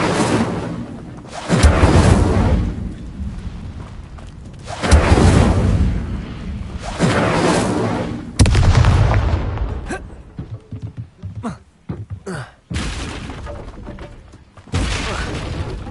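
Fire spell cast in Hogwarts Legacy on PS5, heard as several loud whooshing, roaring bursts of flame, each lasting a second or two, with sharper crackling hits between them.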